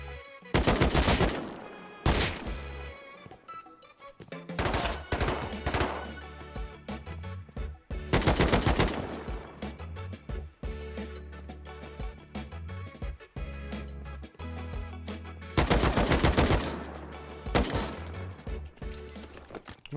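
Tier 2 guns fire in the survival game Rust, with loud, sharp bursts of rapid shots coming in repeated volleys separated by brief lulls.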